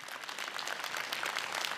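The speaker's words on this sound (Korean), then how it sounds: "박수 부탁드립니다" An audience at a regional forum in Korea applauds after a presentation, dense steady clapping from many hands filling the hall at an even level throughout.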